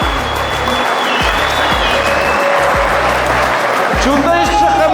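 Guests at a wedding celebration applaud loudly, a dense steady wash of clapping heard alongside thumping music with a deep rhythmic bass beat and voices.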